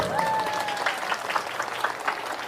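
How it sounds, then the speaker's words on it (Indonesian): A burst of crowd applause, many hands clapping together in a dense, sustained patter, with a brief voice rising above it at the start. "Tepuk tangan Lampung"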